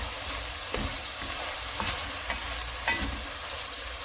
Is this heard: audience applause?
no